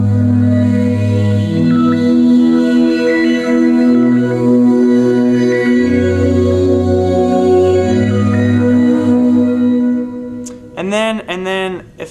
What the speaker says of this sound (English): with the three layers mixed together, the pad, the sparkles, and the kind of the resi sound, it sounds like this